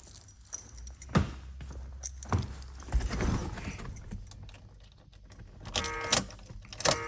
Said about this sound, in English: Key buzzer works.